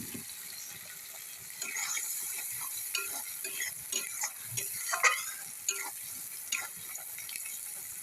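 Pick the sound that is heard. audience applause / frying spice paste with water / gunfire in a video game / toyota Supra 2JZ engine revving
frying spice paste with water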